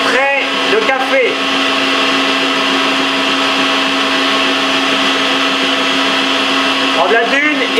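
Electric mixer whipping a coffee ice cream soufflé mixture, a loud steady motor whine close by with brief rattling bursts near the start and end, and a voice speaking over it.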